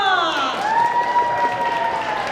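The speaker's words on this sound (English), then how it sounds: "How about another round of applause for Odaiko Sonora" A festival crowd on the main stage at the 2025 Tucson Japanese Festival applauds taiko drum performers, steady broad clapping with some cheering beneath a host's voice calling out over a loudspeaker.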